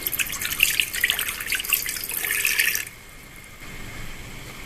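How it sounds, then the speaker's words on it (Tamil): Water is poured into the pot of an electric cooker, making a close, splashing trickle for almost three seconds. It then stops, leaving quiet background noise. "ஸோ இதில் தேவையான அளவுக்கு வாட்டர் ஊற்றிக்கலாம்"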